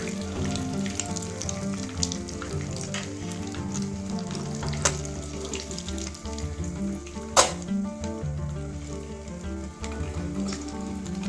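Egg frying in oil in a pan, a steady close sizzle and crackle running throughout with occasional sharper pops and light scraping, no voices.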